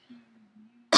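A single sharp cough bursts out at the end, loud and close, after a stretch of low, faint humming voice; the cougher is still recovering from an illness.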